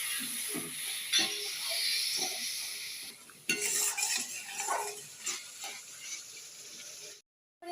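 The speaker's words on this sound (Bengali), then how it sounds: "জল দিয়ে মশলাটা কষিয়ে নেব" Spice paste is stirred and fried with a splash of water in a pan for a duck egg and potato curry. A steady steamy hiss runs under repeated metal scraping and clinks of a spoon against the pan, then stops abruptly near the end.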